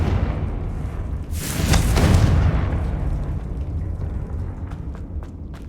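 A fiery explosion spell bursts with a loud broadband whoosh and boom in Hogwarts Legacy, swelling over a couple of seconds before fading into a dense rumbling tail with faint crackles.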